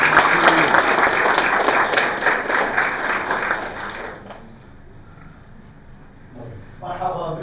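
Audience applause at a UAE Warriors MMA press conference, loud and dense for about four seconds before fading to a quieter hall murmur, with a brief swell of sound near the end.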